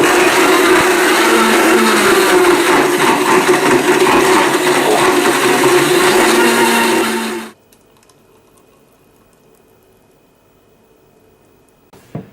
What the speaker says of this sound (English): Just blend this on high for about 30 seconds.